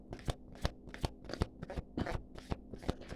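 Large tarot cards shuffled by hand make a rapid series of crisp, crunchy slaps and rustles in a steady rhythm, close and fairly loud, with no talking.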